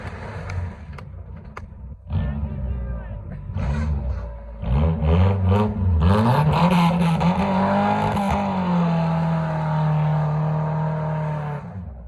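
A race car being driven on dirt, its engine loud and close, revving hard with rising pitch as it accelerates, then holding a sustained high roar.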